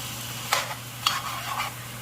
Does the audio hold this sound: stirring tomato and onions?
yes